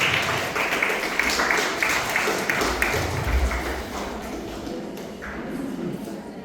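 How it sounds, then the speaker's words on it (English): An audience at a semi-final presentation event breaks into a round of applause, a dense patter of clapping that tapers off as a speaker begins talking. "Let's welcome them with a huge round of applause"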